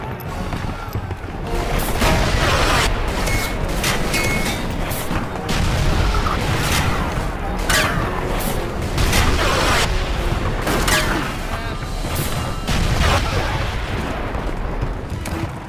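Cannon and gunfire battle at a bridge in the Call of Juarez western video game, dense repeated booms and shot bursts pounding continuously and loudly, with rumbling blasts layered over one another.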